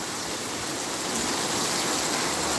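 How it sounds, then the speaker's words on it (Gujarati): Heavy monsoon rain pouring down in Rajpipla, a dense, loud, unbroken hiss of downpour with no voices. "રાજપીપળામાં હાલ ભારે વરસાદ થઈ રહ્યો છે"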